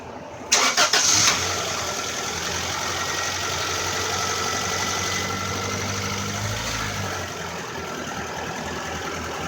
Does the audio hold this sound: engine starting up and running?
yes